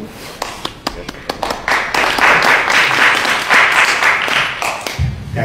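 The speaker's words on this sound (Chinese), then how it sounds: "感谢您的掌声" Audience applause at a Chinese crosstalk comedy theater show, beginning as scattered individual claps that swell into dense, sustained clapping from a crowd, then tapering near the end.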